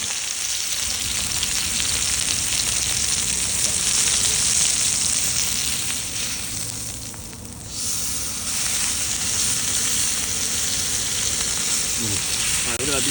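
Wild venison sears on a hot surface at an outdoor cook, giving a loud, steady, close sizzle that runs throughout, briefly dipping midway before resuming at full strength.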